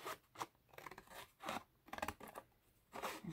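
Scissors cutting through thick paper or card in several distinct snips, each a short crisp rasp with brief pauses between, close and quiet with no talking.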